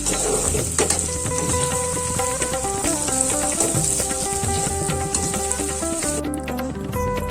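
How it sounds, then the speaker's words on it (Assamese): Onions and cumin fry in hot oil in a wok, giving a steady, loud sizzle that runs almost unbroken, with soft clinks and background tones underneath. "কেৰাহীত তেল গৰম হ'ল আৰু তেল গৰম হওঁতে মই দিছোঁ জিৰা কেইটামান দিছোঁ আৰু এইফালে পিঁয়াজখিনি দি দিছোঁ"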